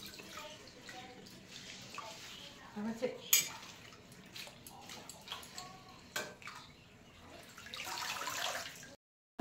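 Stinging nettle leaves are washed by hand in a pot of water, with sloshing, splashing and clinks of the vessel, swelling near the end before stopping; a few words are spoken briefly.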